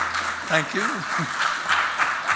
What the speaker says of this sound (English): Can you please give Peter another huge round of applause?